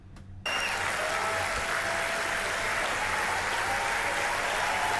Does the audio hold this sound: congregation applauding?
yes